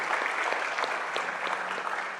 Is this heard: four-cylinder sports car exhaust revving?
no